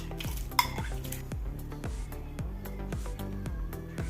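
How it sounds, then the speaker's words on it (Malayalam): A spoon stirs sago into boiling milk in a pot for caramel kheer, scraping in a steady back-and-forth rhythm with a faint bubbling simmer underneath and one sharp clink near the start. "എന്നിട്ട് ഇളക്കി കൊടുത്തുകൊണ്ടേ ഇരിക്കണം"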